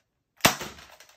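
Adventure Force Thundershot toy blaster fires a dart: one sharp, loud pop with a short rattling tail, preceded by silence and with no talk.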